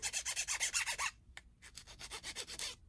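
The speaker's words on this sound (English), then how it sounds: "I like to go over the staples with a nail file really lightly" A nail file rasps lightly over metal staples in quick, rhythmic strokes, close and quiet, with a short pause and a single scrape before the strokes resume.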